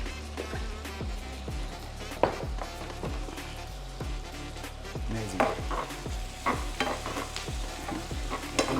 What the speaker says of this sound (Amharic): ሽንኩርት ተቆላላ። ቀጥሎ ስጋ።